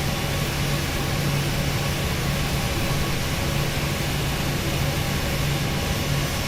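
Steady broadband roar of an airliner's jet engine turbine in an A32x flight simulator, heard as if through an open cockpit window, with a constant low hum, continuous and loud throughout with no talking.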